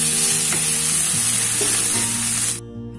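Banana dish frying in a pan with tomato sauce added, a steady loud sizzle and stirring that runs close and continuous, then cuts off abruptly near the end, leaving only a faint hum.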